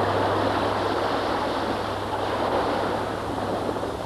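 Pacific Ocean surf washing onto a beach at Kure Atoll, a loud continuous broadband roar of breaking waves and wind with no voices.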